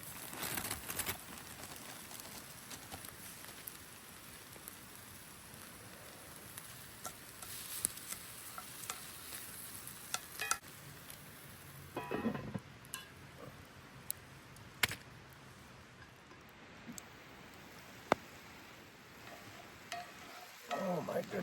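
Prawns fry in a pan over a campfire outdoors, a faint, steady sizzle with scattered light clicks and taps from the pan, no voices.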